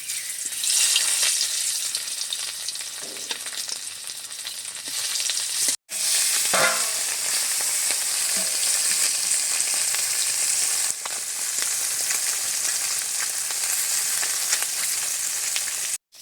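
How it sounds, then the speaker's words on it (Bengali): Fish sizzling and frying in hot oil in a wok (kadai) for a Bengali meal, with a steady loud crackle throughout, a brief break near the middle and occasional stirring clinks; no talking. "তেলটাকে একটু নেড়ে চেড়ে নিয়েছি, মাছ দিয়ে দিচ্ছি।"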